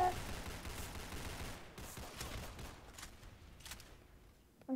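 Concussor rifle gunfire in a video game, a rapid rattling burst of shots with sharp cracks, fairly faint and fading toward the end.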